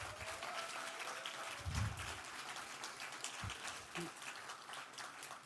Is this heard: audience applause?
yes